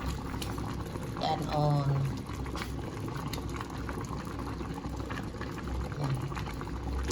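A pot of okra vegetables boils steadily with a continuous close bubbling and hiss, a voice speaking briefly over it.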